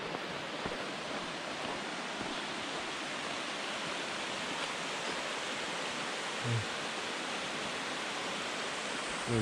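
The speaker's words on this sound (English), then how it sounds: "I could hear this waterfall in the morning" Soft, constant rush of a waterfall along the Mount Whitney trail in California, an even, distant hiss of falling water with no voices.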